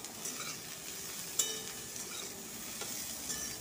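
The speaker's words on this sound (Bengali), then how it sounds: "পটলটাকে একটু ভাজা ভাজা করে নেব" Pointed gourd (potol) fries with carrot in a pan for dalia khichuri, making a soft, quiet sizzle with light stirring scrapes and one sharp utensil clink partway through, no voices.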